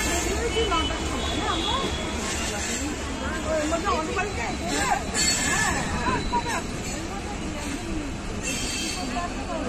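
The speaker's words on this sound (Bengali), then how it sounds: "জানলা থেকে দেখতে পাচ্ছ একটা ডাউন ট্রেন" Heard from inside a moving train out of Howrah, a down train from NJP passes outside the window, a steady loud rumble and rattle of wheels under a chatter of passengers talking.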